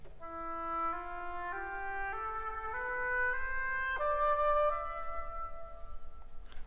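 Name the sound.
Phrygian mode scale starting on E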